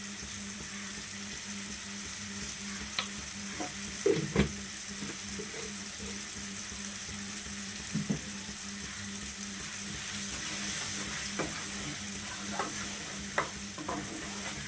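Chili powder frying in oil in a pan with a cauliflower curry base, a steady close sizzle with occasional scraping stirs and clinks throughout, no voices.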